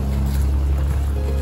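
A boat ride in the bay at Whittier, Alaska gives a loud, steady low engine drone mixed with wind and water rush, continuous and close, without speech.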